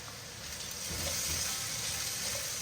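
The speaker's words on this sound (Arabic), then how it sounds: "راح اذب البهارات خليها تحمس وياه، اذب الفلفل هم اخليه يحمس وياهم" Spices and chili frying in a pan for chicken mandi, a steady close sizzle that swells a little after the first second and holds without a break.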